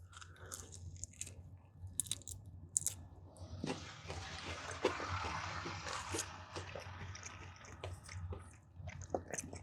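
Crunchy chewing of fried popcorn shrimp from Popeyes, close to the mic, with a quieter stretch before steady, loud crunching bites and mouth sounds take over partway through. No one speaks.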